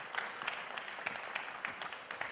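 Audience applause for Patrice Talon, President of Benin, at a meeting with French business leaders, a steady patter of clapping hands, fairly faint and distant, with no talk over it.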